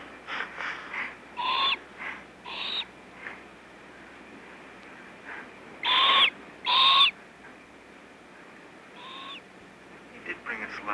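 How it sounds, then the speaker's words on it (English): An owl hoots in a series of clear, fairly close calls spaced a second or two apart, with a longer gap before a final fainter hoot, over a quiet hiss. "Old Hootie Owl did that, all right."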